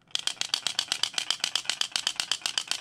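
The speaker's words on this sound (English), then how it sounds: "the rattle system in this, that pendulum balancing system, sounds really great when you shake this side to side" A Megabass iWing 135 topwater hard-bait fishing lure shaken side to side, its internal pendulum rattle clicking in a fast, steady train of about twenty sharp, bright, close-up bursts with no talk.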